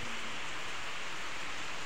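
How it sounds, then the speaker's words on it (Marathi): Rain falls steadily during the first rains of the season near a village, a soft, even hiss of drops on surfaces with no pauses and no voices. "तर आता आलाय पाऊस."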